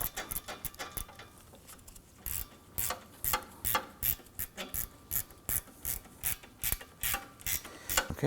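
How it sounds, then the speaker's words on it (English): A gear wrench ratchet clicks in quick bursts while tightening a bolt during AC condenser and receiver drier replacement on a 2003-2014 Volvo XC90 3.2L, close and crisp, with short pauses between strokes and no talking. "I'm going to use our gear wrench in there."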